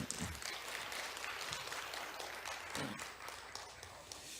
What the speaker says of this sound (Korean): 우리 재정부에서 박수 한번 쳐주겠습니다